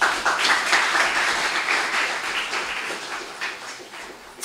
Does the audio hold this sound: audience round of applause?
yes